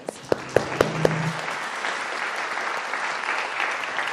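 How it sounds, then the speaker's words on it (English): Audience applause at a university law school lecture event, starting with a few separate claps and swelling into steady, dense clapping from a crowd that carries on to the end. "Let's pause just a moment to give her applause."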